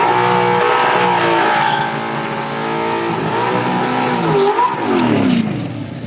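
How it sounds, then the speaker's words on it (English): A stick-shift car does a sideways burnout at a drag strip: a loud, close engine revs hard and holds high, with a tire squeal and pitch swoops near the end as the revs rise and drop. "A little sideways burn out there"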